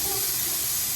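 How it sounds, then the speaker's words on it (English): Seasoned chicken tenderloins sizzle on a hot griddle as a dense, steady hiss that stays loud and continuous for about a second. "I'm putting mine on the griddle."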